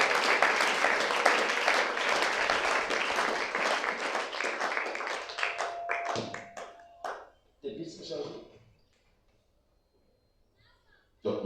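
A church congregation applauds in sustained, dense clapping for about six seconds, then it breaks into scattered claps and fades out amid voices.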